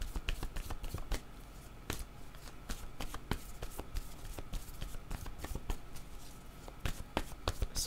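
Tarot cards shuffled and drawn by hand, a run of crisp close riffling flicks and soft taps repeating irregularly, fairly quiet with no talk.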